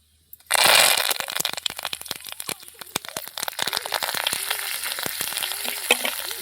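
Curry leaves dropped into hot oil already holding cumin and mustard seeds, crackling and spitting loudly at once, then settling into a dense steady sizzle with sharp pops scattered throughout, close by.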